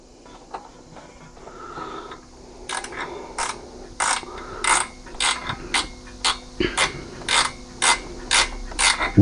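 Ratchet wrench tightening a bolt on the AC condenser of a Chevy Aveo: a quick run of sharp, evenly spaced ratcheting clicks, close and fairly loud, building into a steady rhythmic series with faint background noise.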